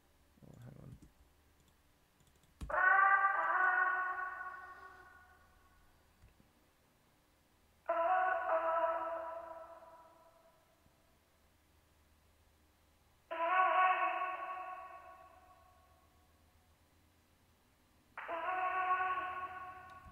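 A vocal sample from an Arcade plugin run through a decimator-style bit crusher for a murky underwater effect, playing as four separate bursts spaced a few seconds apart in a UK rap beat, with no talk over it.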